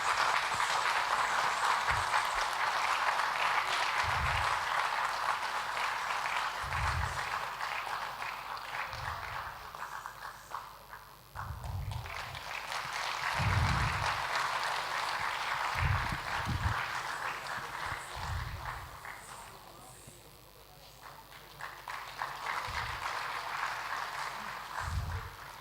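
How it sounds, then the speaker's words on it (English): An audience applauds throughout at a stage ceremony marking an anniversary celebration, a steady, distant wash of clapping with occasional low thumps. "Please welcome her with a big round of applause."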